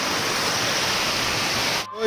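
Steady, loud rush of water flowing from the Talakona waterfall near Tirupati, a continuous broadband roar close by that briefly dips at the very end.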